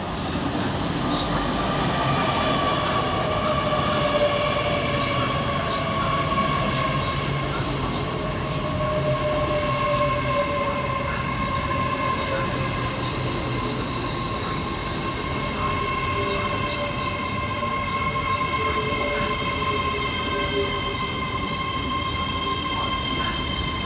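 A train rumbles steadily through Bristol Parkway station, with sustained tonal wheel squeal and hum across the whole stretch, fairly loud and close.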